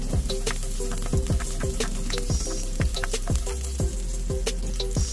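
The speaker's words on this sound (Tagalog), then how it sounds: "Lagyan na natin ng cooking oil. Then lagyan na natin yung ating garlic." Garlic sautéing in hot cooking oil for squid adobo gives a steady, close sizzle throughout, with sharp clicks and scrapes from stirring recurring every second or so. No voices are heard.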